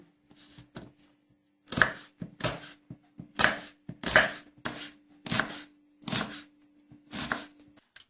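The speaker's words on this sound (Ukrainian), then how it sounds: "Спочатку ми приступаємо до цибульки, ми її нарізаємо на кубики." A knife dicing an onion on a cutting board in quick bursts, about ten crisp clustered chops with short pauses, close up and without talk.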